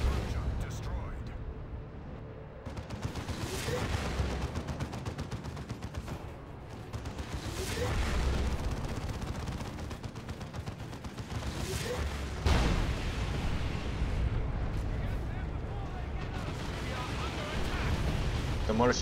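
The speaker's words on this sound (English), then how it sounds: "Demolisher cannon." Demolisher cannon fire in the Dawn of War 2: Retribution game, heavy booms landing every few seconds amid a dense rumbling battle din, with a commentator talking over it.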